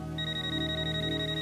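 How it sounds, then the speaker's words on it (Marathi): A telephone rings in a home during a Marathi TV serial scene, a steady electronic ringtone with sustained tones sounding clearly throughout, no voices over it. "फोन वाजायला केव्हापासून?"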